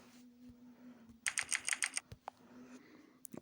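Quick run of taps on a phone keyboard, about half a dozen light clicks in a fast burst followed by a couple of isolated taps, close and clear over a low room hum.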